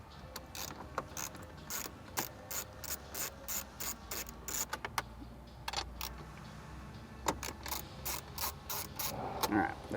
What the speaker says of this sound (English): get it into a position where we can slide it up on these M6 bolts, which we'll undo first